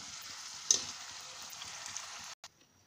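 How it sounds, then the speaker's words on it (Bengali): Mini puris deep-fry in hot oil, a faint steady sizzle with one brief clink near the start before the sound cuts off near the end. "উল্টিয়ে দিয়ে আমি গোল্ডেন ব্রাউন করে ভেজে নেব"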